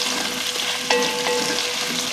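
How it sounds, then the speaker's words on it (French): Chopped onions hit a hot pan for a vegetarian bourguignon, giving a steady, fairly loud sizzle with a few brief clatters as they are stirred in, no talking. "Au bout de 5 minutes à peu près, j'ajoute mes oignons."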